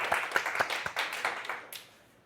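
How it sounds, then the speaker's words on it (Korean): A small audience at a golf lesson gives brief, quiet applause for a volunteer, scattered claps close together that fade out after about two seconds. "박수 한번."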